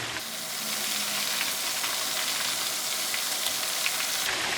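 Flower crab frying in a wok for a Malaysian kam heong crab dish, a loud, close, continuous sizzle with crackling spatter throughout and no talk.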